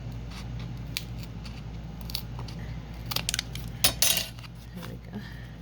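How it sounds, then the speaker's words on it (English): Scissors snip trim during a craft build of a fairy door topper, producing faint, sparse metallic clicks and a couple of sharper cuts near the end over a steady low room hum. "I think I'll just use my scissors here."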